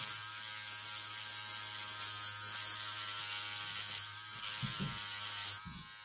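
A rotary power tool running on a low setting sands a dentalium shell for earrings, giving a steady close buzzing drone with a low hum, and brief thumps of handling near the end.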